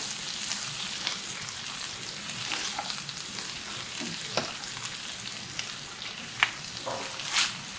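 Baby kale goes into a hot pan of tomatoes cooked down almost to a sauce, for a keto garlic chicken dish. A steady close sizzle runs throughout, broken by scattered pops and stirring scrapes, with no voices.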